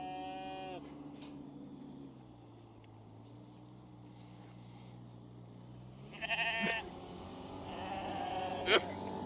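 Several sheep bleat on a farm, loud and close; the calls are drawn out and wavering, with a brief quiet stretch between them and a sharper bleat near the end.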